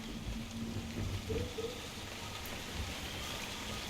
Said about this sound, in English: This rain is so loud, I can't hear.